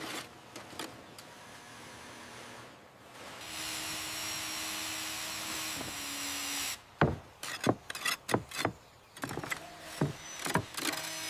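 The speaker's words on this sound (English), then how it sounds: "This sanding is bringing out the grain beautifully." Steady, close scraping and rubbing of abrasive on a wooden surface for a few seconds, followed by a series of sharp knocks and clatters.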